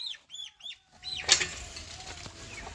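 Chickens in a yard give a few high, thin peeps up close, followed by a brief scuffle with a flap of wings and soft background clucking.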